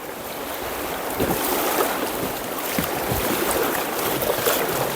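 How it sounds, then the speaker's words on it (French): Water sloshes and splashes steadily with wind buffeting the microphone, scattered kayak paddle strokes slapping the surface at irregular intervals on the Cèze river. "Attention, ça va éclabousser."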